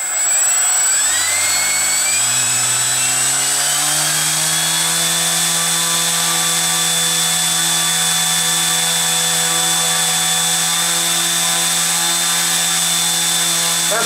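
An electric motor spins a propeller drawing about 30 amps, a loud continuous whine that climbs in pitch over the first few seconds as it spools up, then holds steady and strong without any talk.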